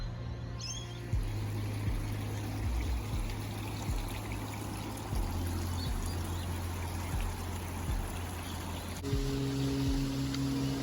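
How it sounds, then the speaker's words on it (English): A small waterfall in a city nature reserve in Boroondara, its steady broadband rush of flowing water continuing without a break and close by, with no voices. "I'll take you on to the little waterfall."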